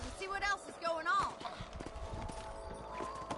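Horse hooves clip-clop in the Red Dead Redemption video game, a quick, light rhythm of steps under spoken voices and game sounds.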